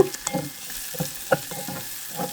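Fish and onion fry lightly in a pan with a soft sizzle, while a few spatula scrapes and knocks stand out against the steady crackle at close range.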